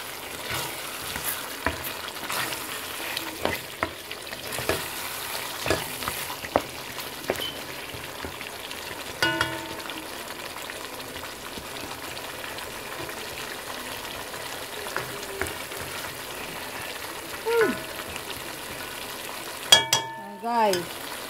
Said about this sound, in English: And let it fry up.